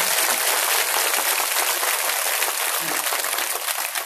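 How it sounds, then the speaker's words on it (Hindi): An audience at a religious discourse by BV Sridhar Maharaj in Noida claps together, giving dense, steady applause that fills the whole stretch at close range. "इसलिए महाराज जी की कथा जितनी अच्छी लगी उतनी जोर की ताली बजाओ।"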